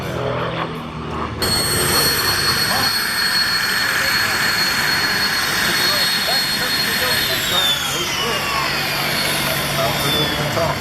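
An aerobatic aircraft flies a super slow aileron roll and down line at the SUN 'n FUN 2018 airshow. A loud, continuous engine drone and rushing roar fills the scene, with a commentator talking over it.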